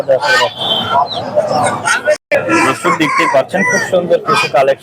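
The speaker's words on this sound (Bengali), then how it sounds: "এগুলো মোরগ" Roosters crow repeatedly at a busy duck and chicken market at Hasnabad. The calls are loud and close, overlapping one another through a constant buzz of nearby voices.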